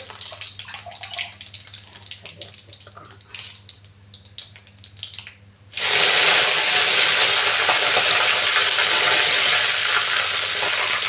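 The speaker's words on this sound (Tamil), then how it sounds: "இந்த சீரகம் சேர்த்து போட்டுக்கலாம்." A soft scraping and low voice give way to a sudden loud, crackling sizzle as cumin and curry leaves hit hot oil, hissing continuously until the end.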